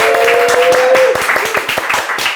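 A small group claps in a brief burst of uneven applause, with several distinct claps standing out and a voice briefly audible over it.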